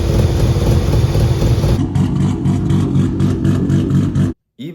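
A car engine runs loud and steady right after a new throttle body is fitted, with a dense mid-range hum and a slight shift in tone partway through before it cuts off abruptly near the end.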